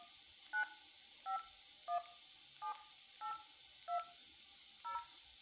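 Telephone keypad dialing tones for a city hotline number in Riverside, seven short evenly spaced DTMF beeps, faint and clear over a steady hiss.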